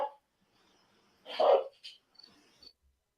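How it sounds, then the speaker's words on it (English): A police dog barks at a door in a quiet room, giving one loud bark followed by a few fainter yips and whimpers, heard nearby with no talk. "So the dog is letting it know there's somebody back there in that room."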